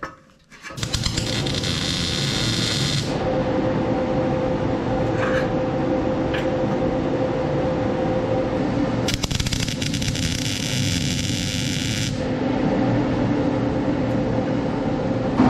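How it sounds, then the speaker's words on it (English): A steady, loud electric drone with harsh metallic crackling bursts that start and stop in long stretches, like a welder running close by. "pardon the welder. It does make a lot of noise."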